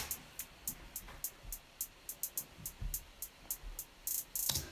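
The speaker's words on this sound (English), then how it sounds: "The hi-hat sounds without compressing like this." Uncompressed 808 hi-hats in a drum loop, a steady run of crisp, bright ticks at a quick even rhythm, fairly quiet and thin, with a slightly denser open burst near the end.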